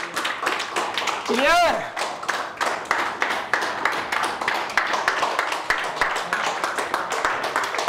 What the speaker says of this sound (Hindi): अरे ताली बजते रहना चाहिए।